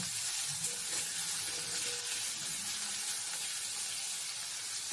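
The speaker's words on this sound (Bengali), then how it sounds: "আলুটাকে একটু লাল লাল করে ভেজে নেব।" Potatoes fry in a pan with a steady, even hiss of hot oil and a few soft stirring sounds, heard alone at a moderate distance.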